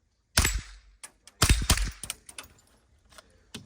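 Rifle shots from an AR-15 fired at targets on an outdoor range, a few sharp loud cracks in quick succession with quieter reports and a final shot after a pause.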